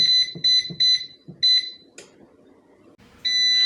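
An air fryer's timer beeps while cooking a vegetarian full English breakfast: four loud, high electronic beeps in a quick even rhythm, a pause with faint kitchen noise, then a longer sustained tone.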